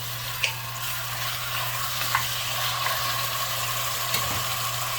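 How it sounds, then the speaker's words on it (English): Cut-up venison browns in olive oil in a pan with a steady, close sizzle and frying crackle. Occasional soft clicks of stirring sit over a low hum. "have the meat cut up here. That's olive oil. I'm gonna brown this up a little."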